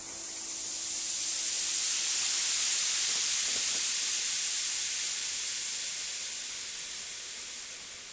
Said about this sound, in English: We had this noise sweep, which is being done with 3 oscillator.